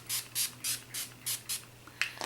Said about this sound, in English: Take my NYX Matte Finish Setting Spray, and it's in this bottle, most of it, and I just spray that on my face.